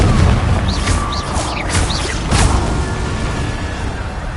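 Confringo fire-spell blasts in the video game Hogwarts Legacy during combat: a dense, loud, continuous roar of booming explosions with crackling bursts layered on top, with no clear gaps between them.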